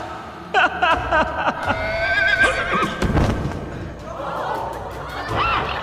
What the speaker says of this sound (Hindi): घोड़े ने तो अर्जुन दा को चारों खाने चित कर डाला।